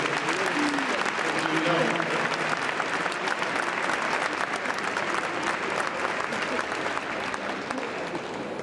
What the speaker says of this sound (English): Come on, clap them all the way up to the theater.